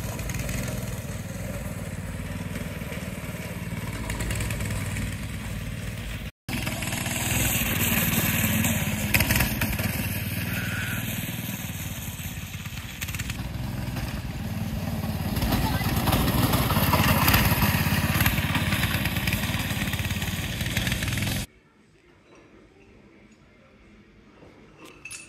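A custom adult-size go-kart engine runs steadily for about twenty seconds, a loud close buzzing drone that rises and falls slightly with throttle, then cuts out abruptly, leaving quiet background.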